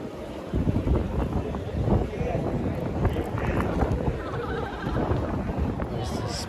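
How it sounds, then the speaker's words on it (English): Outdoor wind gusting at an anime convention garden outside a mall, a rough broadband rumble buffeting the microphone steadily throughout, with people talking faintly. "It's kind of windy."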